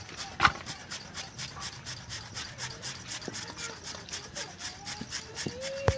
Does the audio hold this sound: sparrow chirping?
no